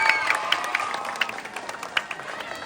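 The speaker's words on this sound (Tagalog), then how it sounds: "Pahingin naman po ng inyong masigabong hiyawan at palakpakan." Audience applause and cheering at a beauty pageant's national costume show, a steady dense wash of clapping with sharper claps and shouts popping out across the whole stretch.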